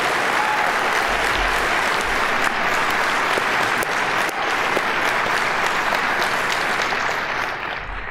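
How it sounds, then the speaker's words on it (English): Sustained audience applause fills a conference hall at a tech keynote, a dense, even wash of many hands clapping at steady loudness throughout, tapering slightly at the very end with no voices over it. "Give you a round of applause for your hard work."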